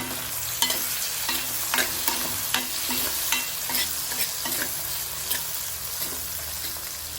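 Tomatoes frying in a hot pan on full flame while being stirred, with a steady sizzle and regular scraping clinks of the spoon roughly every half second, close and alone with no talk.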